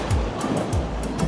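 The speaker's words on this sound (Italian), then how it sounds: "che mare, bello agitato" Rough, choppy sea surf near a small harbour on Crete, a broad steady wash of breaking waves with repeated surges, loud and continuous with no voices.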